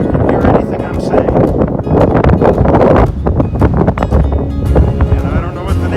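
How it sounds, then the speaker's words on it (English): Strong gusts of wind buffet the microphone on a high mountain trail along a historic emigrant route, loud and roaring throughout, with someone talking over it. "Well, the wind's sure blowing."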